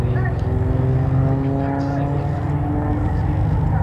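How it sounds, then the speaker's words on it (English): An RAF Tutor aircraft with a 180 horsepower Lycoming piston engine at the RAF Cosford Airshow 2022, heard as a steady, loud droning engine tone throughout, under a commentator's voice. "has a 180 horsepower Lycoming piston engine"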